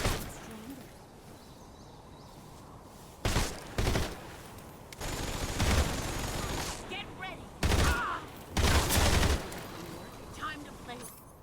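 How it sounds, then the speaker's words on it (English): Shotgun gunfire in the video game Metal Gear Solid Delta: Snake Eater, with several loud, heavy blasts in separate bursts over a low background of game ambience. "¿Pero cómo me va a esquivar un escopetazo a 5 centímetros?"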